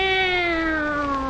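One long, drawn-out cat meow, loud and close, sliding gradually downward in pitch.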